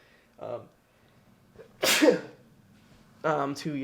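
A single loud, sharp sneeze bursts out between brief bits of talking, close and abrupt.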